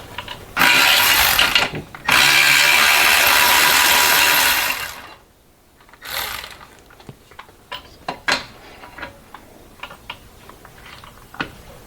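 A ratchet clicks in two long, loud bursts while removing an exhaust bracket on a Mercedes Sprinter during transmission work, followed by quieter intermittent clicks, taps and tool handling nearby.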